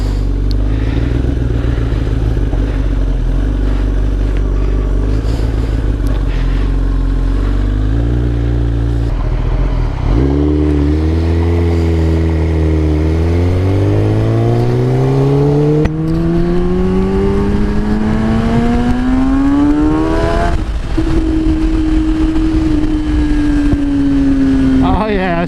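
A 2018 Kawasaki ZX10RR sport bike engine runs steadily while riding, then its pitch climbs smoothly through a long rising pull and holds high, loud and close throughout.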